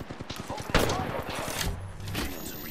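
Apex Legends firefight with a sharp burst of gunfire early on and rapid shots continuing, close and loud, with game voice lines talking over the action.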